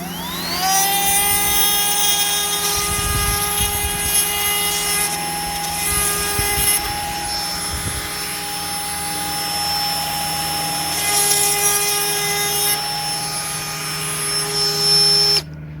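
A Dremel rotary tool spinning at around 25,000 RPM sharpens the teeth of a chainsaw chain, giving a loud continuous high-pitched whine with grinding rasps as the stone makes quick light passes, close up and with no talking.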